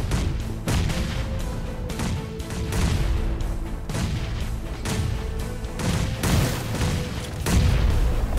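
Many hand grenades go off in a 72-player tower-defense video game, making a dense run of loud booming blasts that overlap and repeat in quick succession, with no talk.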